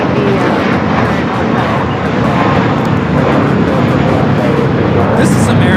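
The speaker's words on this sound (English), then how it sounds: "This is American Airlines 274 taking off to JFK on the A321." An American Airlines A321 taking off from LAX produces a loud, close, sustained engine roar that fills the entire span without letup.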